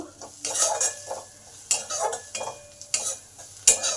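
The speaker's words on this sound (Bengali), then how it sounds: "এবার একটু জিরে গুঁড়ো লঙ্কা গুঁড়ো আর হাফ চামচ হলুদ গুঁড়ো দিলাম এগুলো ভালো করে একটু কষে নেব" Cumin, chilli and turmeric powders stir-fried in a pan for an egg toast breakfast, with repeated scraping and clinking of a spatula against metal in bursts over a soft sizzle.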